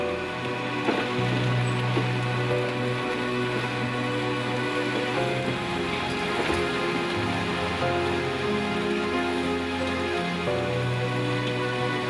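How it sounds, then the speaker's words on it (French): Steady rain falling on a muddy cliffside mountain road in the Himalayas, a continuous close patter with sustained low engine-like hum tones running underneath throughout. "quand la pluie ne cesse de tomber"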